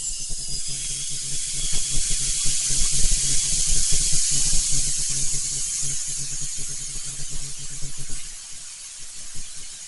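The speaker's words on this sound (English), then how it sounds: "you're putting liquid propane into this cylinder, and you're going to hear it spray" Steady, loud hissing spray of liquid propane rushing into a 1 lb cylinder from a fuel keg, continuous with slight fluttering, easing off near the end.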